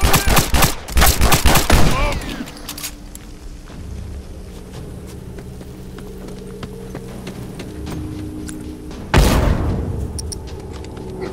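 Rifle gunfire in a first-person shooter video game: a rapid burst of loud, close shots at the start, then a low steady hum, and a single sharp shot near the end.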